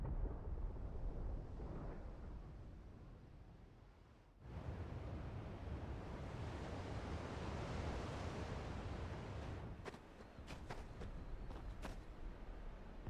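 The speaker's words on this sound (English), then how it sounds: "Sounds like thunder." Low, broad rumbling thunder rolls through a stormy scene in the video game Final Fantasy XVI, a steady deep roar that briefly drops out before swelling again, with a few sharp crackles near the end and no talking.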